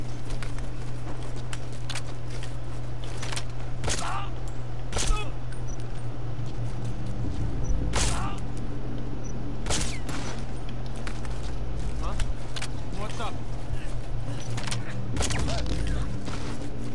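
Gunfire in Metal Gear Solid V: Ground Zeroes: sharp, sporadic shots crack out one or two at a time over a steady low hum, loud and irregularly spaced, with a voice talking at times.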